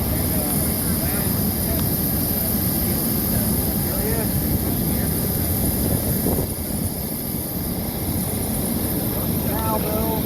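An American Airlines MD-80 jet engine cranks and starts, a steady, loud, close roar with a high thin whine held over the full stretch, and faint voices now and then beneath it.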